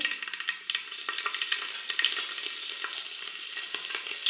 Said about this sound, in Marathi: त्यामध्ये अख्खा लसूण घालायचा आहे